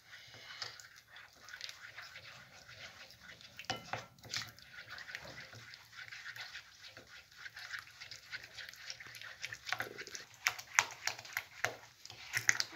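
Mayonnaise being whisked by hand in a bowl with mustard and oil, a quiet rapid clicking and scraping of the whisk against the bowl, faint and uneven, with louder taps toward the end.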